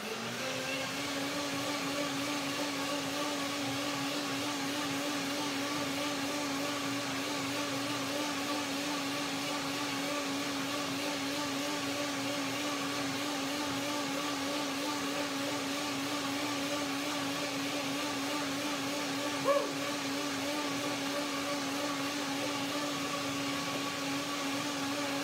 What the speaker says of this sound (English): now I blend a second time to make it the right texture.